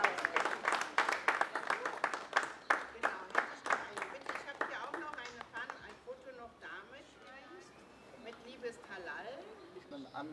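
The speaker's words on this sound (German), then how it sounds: "Jetzt können wir bestimmt klatschen" A small group claps inside a Berlin mosque, with fast rhythmic handclaps for about five seconds that then thin out into scattered taps under people talking.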